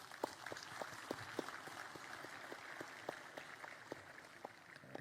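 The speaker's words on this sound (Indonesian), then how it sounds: "Tepuk tangan." Crowd applause at a National Education Day ceremony, faint and distant, with a few distinct claps standing out at a regular pace over a thin background.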